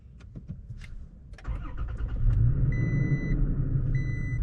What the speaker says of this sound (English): You hold the brake, you push to start, and then it obviously turns on.